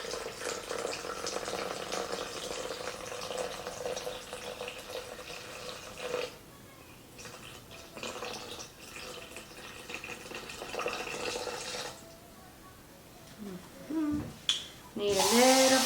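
Warm water streams from a container into a bowl of sourdough starter resting on a kitchen scale, a long steady pour that pauses and resumes, with some clatter near the end.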